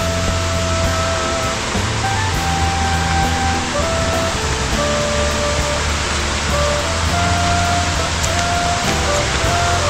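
Dhangar waterfall near Badlapur, a steady, loud roar of falling water heard continuously throughout, with a faint musical tone layered over the rush.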